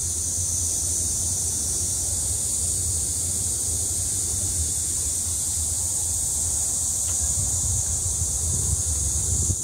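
Steady wind rushes outdoors for about ten seconds, a constant airy hiss with a faint low rumble and a high, unbroken whine above it.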